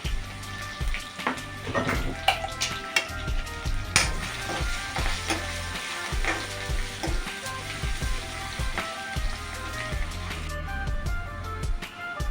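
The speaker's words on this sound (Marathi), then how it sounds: "लसूण तेलात भाजून घेऊया आपण" Crushed garlic sizzles steadily in hot oil, with irregular stirring scrapes and clinks of a utensil against the pan throughout, fairly close and alone without talk.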